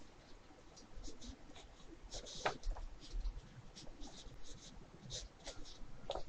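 Loose pencil strokes scratch across sketchbook paper while thumbnails for comics are drawn, a close, faint patter of short scribbles and scrapes in an irregular rhythm over a quiet room hiss.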